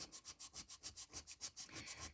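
Rhythmic back-and-forth rubbing strokes of sanding, about a dozen even passes, close and soft, with no voices.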